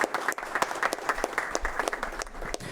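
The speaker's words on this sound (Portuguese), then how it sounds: "Por gentileza, uma salva de palmas a todos." An audience at a seminar applauds in a dense, steady round of clapping from many hands, filling the room at moderate loudness throughout.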